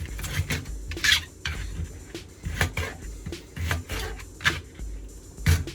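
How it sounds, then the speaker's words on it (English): Knife chopping a potato on a board and dropping pieces into a pan while making meatloaf, a string of close, sharp knocks and clinks at an uneven pace with no talk. "This is the last little bit that I'm cutting up and putting it in the pan."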